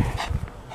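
Quick, breathy dog panting, a few short rapid breaths close to the microphone.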